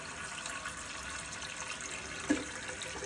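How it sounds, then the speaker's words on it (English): A running toilet tank refills with water, a steady low hiss and rush of flow from the fill valve and overflow tube, close and continuous, with one small splash near the end. "a little overflow tube is coming through here to fill the water back up into the tank"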